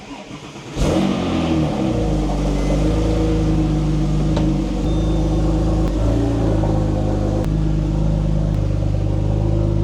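A rebuilt Porsche 997 Turbo engine cranks and fires up after a short starter whir, then settles into a loud, steady idle close to the listener with a few small throttle blips.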